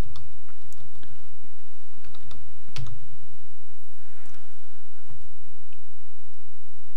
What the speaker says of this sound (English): you can just type G shell if you want